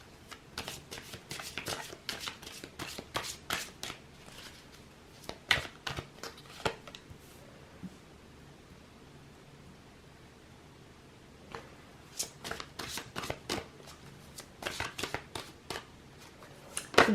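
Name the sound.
tarot cards being shuffled and drawn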